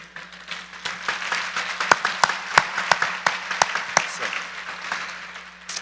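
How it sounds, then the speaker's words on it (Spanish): An audience at an expert talk on Israel applauds: a steady wash of clapping runs throughout, with several sharp, loud individual claps close by standing out above it. "Este aplauso para ustedes"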